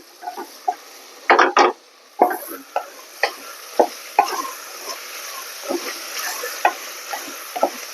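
Two chopped tomatoes sauté in a pan for beef kurma, with soft sizzling beneath and a series of distinct scraping stirs of a spoon, some in quick bursts and others single, close up.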